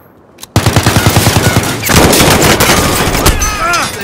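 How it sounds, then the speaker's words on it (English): Sharp, evenly spaced automatic gunfire in a video game starts abruptly after a brief quiet, a loud rattling burst followed by heavier sustained shooting and noise that continues to the end. "They're shooting at me."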